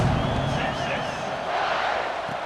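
Stadium crowd in the College Football 26 video game, a steady broad roar and murmur of fans, with a commentator's voice talking over it.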